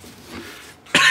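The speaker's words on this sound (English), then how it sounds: "I got a cough too." A quiet stretch of faint background, then one sharp, close cough bursts out right at the end.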